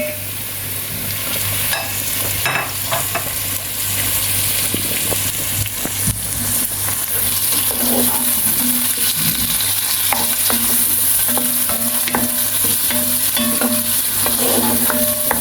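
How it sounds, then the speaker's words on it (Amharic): Meat browning and being stirred in a hot pan with onions, a loud steady sizzle with repeated scrapes and clinks of a utensil throughout, no voices. "ስጋውን ጨምሬ ትንሽ እንደያበረ ጥብስ አድርገዋለሁ።"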